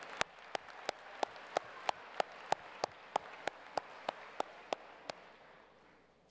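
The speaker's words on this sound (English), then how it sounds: "Round of applause for Sven." Slow, evenly spaced single claps at a high school graduation ceremony, about one every third of a second, over a soft wash of scattered crowd noise that fades out toward the end.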